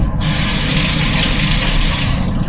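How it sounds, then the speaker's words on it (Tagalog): Steady, close gush of running tap water over an apple being washed in a sink, loud and continuous throughout. "hugasan ko lang yung apple"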